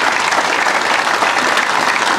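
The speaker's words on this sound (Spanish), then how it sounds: "Aplauso para el hermano Ramón." A church congregation at a Pentecostal baptism service breaks into applause for a brother named Ramón. The clapping is dense and steady, sustained at full strength throughout with no pauses.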